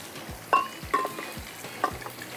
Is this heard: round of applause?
no